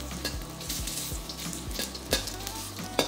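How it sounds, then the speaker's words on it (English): Ginger sizzles and crackles in hot oil during a chicken and broccoli stir fry, a steady close fry with a few sharp stirring clicks and scrapes against the pan. "When the oil is hot, add in your ginger. Fry this till the ginger is fragrant."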